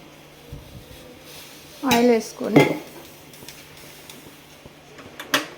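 A cooking pan is set down on a home stovetop with a couple of clanking metal knocks, followed by lighter clinks of kitchenware; no speech is heard.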